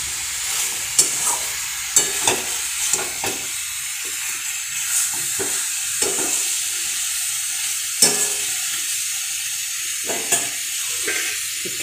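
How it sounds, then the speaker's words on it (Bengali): Chicken pieces coated in chilli powder fry in a pan as a spoon stirs them, a continuous sizzling hiss broken by regular sharp scrapes and knocks roughly every second, close and clear with no voices. "এবার এটাকে ভালো করে মিশিয়ে নিতে লাগবে।"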